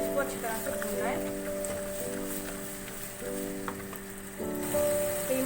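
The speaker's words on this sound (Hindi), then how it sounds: "दही शामिल करने के बाद कीमे को अच्छी तरह से भूनेंगे। फ्लेम मैंने हाई कर दी है।" Minced keema with yogurt frying over a high flame, giving a steady close sizzle with occasional stirring, while a voice and a sustained musical tone sound over it.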